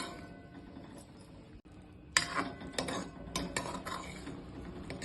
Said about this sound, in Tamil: நடுவில் கிளறி விட்டால் போதும்.